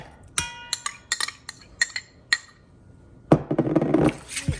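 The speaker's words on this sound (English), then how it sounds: "we're gonna mix this stuff together before I put it in with the meat because I want the eggs incorporated well" Eggs being mixed into a ravioli meat filling in a bowl: a series of sharp utensil clinks against the bowl, then a burst of denser scraping and stirring, close and fairly loud with no talking.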